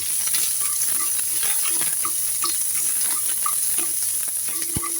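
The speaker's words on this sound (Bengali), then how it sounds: "পেঁয়াজটাকেও আমি ভাজা ভাজা করে নিব" Onions fry in a pan for a Bengali okra bharta, a continuous close sizzle with repeated scraping stirs and light taps of the spatula against the pan.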